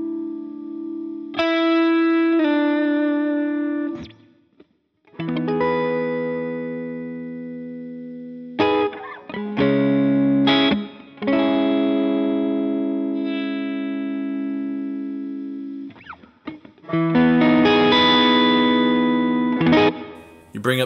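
An electric guitar plays through a NUX Kompressor compressor pedal, with squashed, sustained notes and chords that ring out for several seconds before being struck again, separated by brief gaps of near silence.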